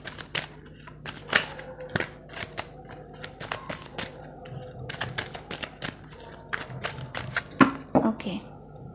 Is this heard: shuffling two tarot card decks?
yes